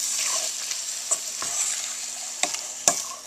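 Shrimp and green onions sizzle in a pan, with a steady fry and a few sharp scraping stirs spread across a few seconds.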